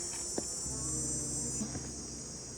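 Steady insect buzzing fills the scene, a dense hum of many honey bees close by at a strong hive colony, with a faint low drone running underneath and a brief tap early on.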